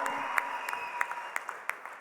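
A large audience at a film event launch claps together in a brief burst of applause. Sharp individual claps stand out over the steady crowd clapping, heard close and fairly loud.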